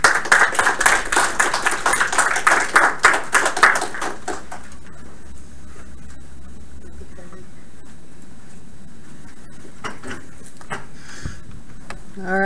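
A small audience claps in rapid, fairly close bursts at a game studio build review for about four seconds, then the room falls quiet with only faint shuffles, a tap and a sniff.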